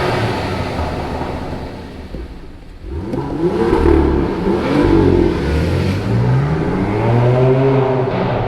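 A BMW M2 engine revs loudly and close by at a car meet, rising and falling through several sweeping pitch climbs, with a steady lower engine drone before and between them.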